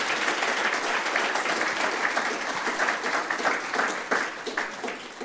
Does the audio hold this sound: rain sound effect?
no